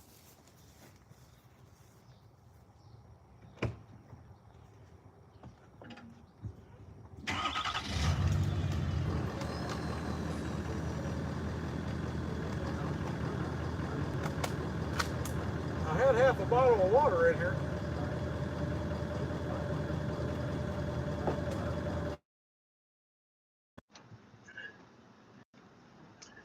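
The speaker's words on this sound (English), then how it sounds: "let me get this truck out of here" A truck engine starts up and runs loudly, rumbling steadily for about fifteen seconds with a few beeps and clunks as the truck moves off, then cuts out; someone speaks briefly before it starts.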